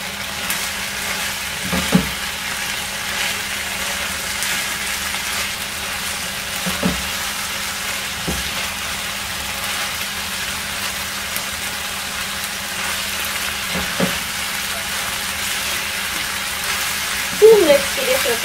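Finely chopped vegetables for chicken shawarma fry in a pan with a steady, close sizzle throughout, broken by a few soft clatters as they are stirred.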